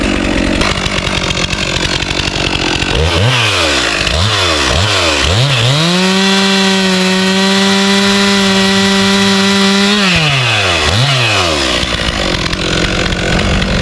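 A Stihl MS 362c chainsaw cutting firewood, loud and close, revving in several quick surges before settling into a sustained high-pitched cut, then winding down and idling.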